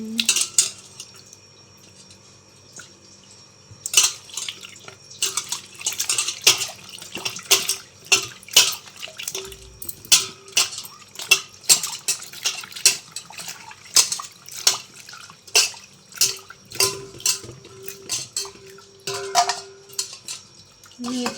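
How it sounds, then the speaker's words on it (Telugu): Repeated clatter and splashing as dried fish are handled and rinsed in a basin of water, with metal knocks and sloshing in an irregular rhythm, close by. "క్లీన్ చేసుకొని హాట్ వాటర్లో వేరే గిన్నెలోకి అయితే వేసుకుంటున్నాం"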